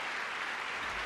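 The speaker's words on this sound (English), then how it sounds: "This is a spike clap." A single burst of loud hand clapping, a spike clap, sounds as a dense, close wash of claps lasting about one second before cutting off abruptly.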